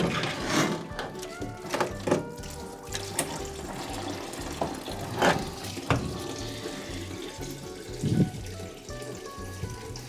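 Leftover fluid runs out of a 1970 Datsun 240Z radiator as it is lifted from the car, a steady liquid trickle with a few clunks and knocks of the radiator against the body, heard fairly close.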